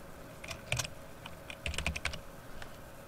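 Sharp mouse clicks during image editing on a computer, close and quiet, in small clusters with double taps, alone without talk.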